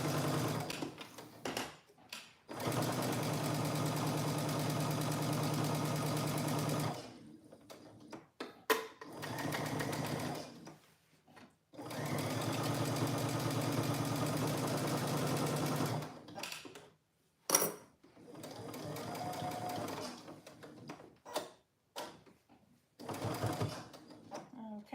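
A sewing machine stitches straps onto a pillowcase sundress in several loud, fast bursts of rapid clatter. Short pauses with soft handling noises separate the bursts.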